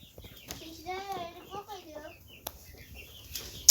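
Chicks peep somewhere in a dirty goat shed, a run of thin, high rising-and-falling chirps clustered near the middle, moderately close, with scuffing and a voice in the background.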